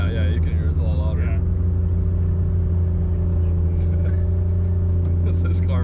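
A 2JZ-swapped BMW E36 idles with its exhaust valve open, a loud, deep steady drone with strong low rumble, while people talk briefly at the start.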